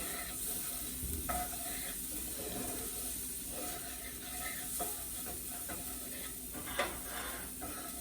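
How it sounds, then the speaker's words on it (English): Ground beef, 80-20, stirred in a hot pan, a steady quiet sizzle with occasional scraping taps of the utensil and one sharper clack near the end. "let's get this stirred around"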